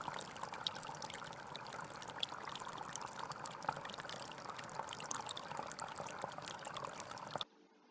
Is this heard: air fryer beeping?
no